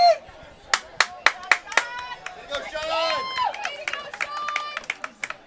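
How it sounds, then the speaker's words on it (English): The Trojan home crowd at a boys high school soccer match between Wilson and David Douglas claps for goalie Sean Sussman's save: scattered sharp handclaps, several in a row, while a commentator talks over them. "The Trojan crowd still congratulating goalie Sean Sussman on that save"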